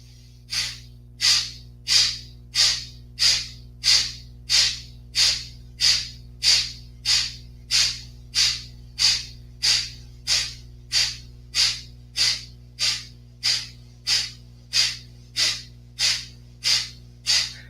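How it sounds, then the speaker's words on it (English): Rapid, rhythmic forceful exhalations pump air out in a steady series of about twenty-five sharp breaths during a yoga breathing exercise, close and loud over a low constant hum. "So we're breathing fully in and then pumping the air out."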